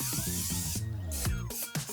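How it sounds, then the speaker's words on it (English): A can of cooking spray hisses in short bursts into a brownie pan lined with paper, loud and close, with several quick sprays and brief pauses between them. "So just one more spray"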